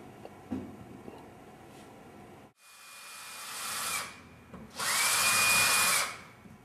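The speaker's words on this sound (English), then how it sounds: "So yeah, it'll be an afternoon of drilling holes." Power drill boring holes into a wall for an art installation, two sustained whining bursts with steady high-pitched tone, the second louder and closer, after a quieter stretch of faint workshop noise.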